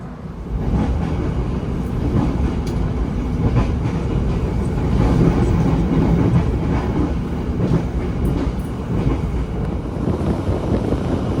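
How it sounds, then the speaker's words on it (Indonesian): Continuous low rumble and rattle of a moving train at night heard from inside an economy premium carriage, steady and loud with faint creaks and wind noise. "Mengikuti perjalanan kereta di malam hari ini"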